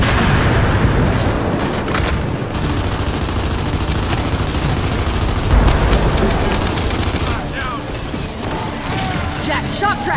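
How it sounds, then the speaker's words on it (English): Heavy gunfire and booming blasts, including a grenade explosion, in Gears of War 5 campaign combat, loud and continuous with rapid bursts and mechanical clatter, with voices calling out over the fighting. "Throw a grenade!"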